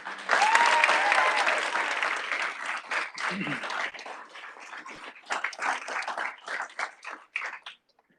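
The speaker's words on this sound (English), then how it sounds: "Let's have a round of applause." An audience at a school governing board meeting applauds student recognitions. Loud, dense clapping fills the first few seconds, then it thins into scattered claps and fades out near the end.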